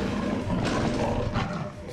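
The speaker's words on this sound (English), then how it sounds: "Jan Gold is face to face with Taiga, a 600-pound Siberian tiger on the loose" A 600-pound Siberian tiger gives a loud, close, rough roar that swells twice over two seconds, heard on its own without speech.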